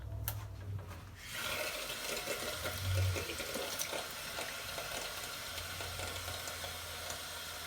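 A tap runs in a sink to wet the face, a steady close rush of flowing water that keeps going through the clip.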